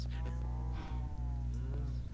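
Cows in a video game moo in long, low, droning calls, overlapping and close by, filling the whole stretch with steady mooing.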